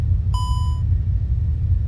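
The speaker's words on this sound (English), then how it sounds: "the master caution alarm sounded" A single aircraft master caution alarm sounds as one steady electronic tone lasting about half a second. It rings in a cockpit just after the autothrust disengages, over a constant low rumble of engine and airframe noise.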